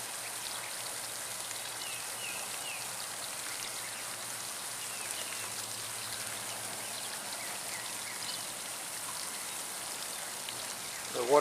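Water trickles and patters steadily from small drilled holes in a homemade drip watering pipe, a constant light splashing like rain on a surface, close and even, with a brief louder knock at the very end.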